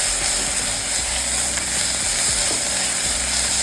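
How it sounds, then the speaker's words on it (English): Garlic and ginger fry with onions in a hot pan, a loud steady sizzle close by, with scraping and stirring clicks from a utensil running through it. "we're gonna add in your garlic, 2 spoons of garlic and ginger"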